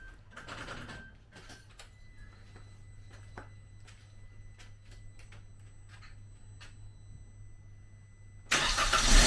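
A Suzuki Jimny with a newly installed turbo is started for the first time: after quiet clicks and low hum, the engine catches near the end with a sudden, loud, close roar.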